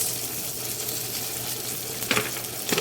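Onions sautéing in butter in a pan give a steady, close sizzle throughout, with a couple of brief clattering stirs near the end and no talking.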